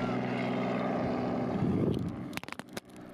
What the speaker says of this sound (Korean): 수시로 이곳에서는 헬리콥터 소리가 들립니다